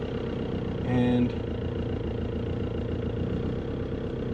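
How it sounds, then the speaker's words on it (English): A Subaru engine idles steadily while warming up shortly after starting, a constant low hum throughout with a single brief spoken word near the start. "Let's warm her up and take her for a drive."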